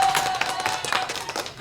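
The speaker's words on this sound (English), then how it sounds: "give them a little applause" Audience applause in a talk-show studio room, a short burst of scattered clapping from a small crowd, steady and fairly close, with faint voices mixed in.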